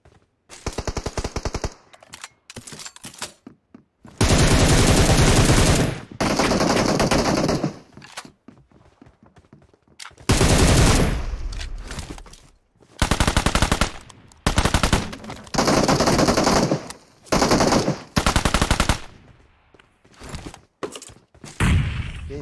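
Rapid automatic gunfire in the mobile battle royale game PUBG Mobile, loud close bursts of machine-gun fire separated by short silences and a few single shots.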